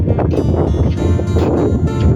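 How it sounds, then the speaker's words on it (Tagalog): Strong wind buffets the microphone continuously on a long bridge through a mangrove area, producing a loud, rough roar with gusty bursts and no clear speech. "Ang lakas ng hangin dito."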